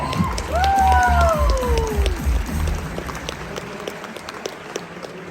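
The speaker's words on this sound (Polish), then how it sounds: "Brawa dla niego!" Broadband crowd applause at a cosplay show final with scattered claps, a voice rising and falling over it near the start, then the clapping slowly thins out.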